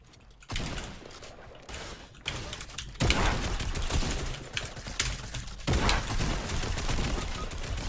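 Gunfire in a multiplayer shooter game: bursts of rapid shots and mechanical clicks come in waves over a constant game backdrop, fairly loud and close.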